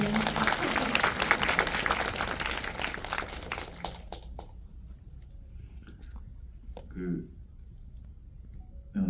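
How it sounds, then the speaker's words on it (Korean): An audience at a film talk event applauds the director in a loud burst of clapping with voices over it, which stops abruptly and leaves quiet room tone and a few faint sounds. "정말 감독님께 박수 한 번만"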